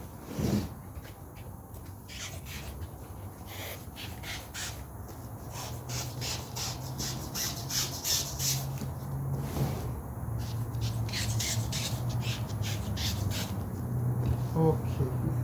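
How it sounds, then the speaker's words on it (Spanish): Foam padding from a car seat is trimmed while premade seat covers are fitted, producing a steady run of scratchy, rasping cutting strokes close by with a low background hum. "Ahora voy a recortar la espuma acá."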